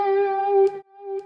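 Electric guitar tone shaped by a phaser preset on a TheGigRig G3 switcher, a single sustained note ringing steadily, briefly dipping and then swelling back, heard alone.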